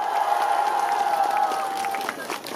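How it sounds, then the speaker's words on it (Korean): Crowd at an outdoor rally urging a subway line extension claps and cheers in a steady wash of applause, with voices mixed into the noise before it thins toward the end. "다시 한번 힘차게 박수를 보내드립시다"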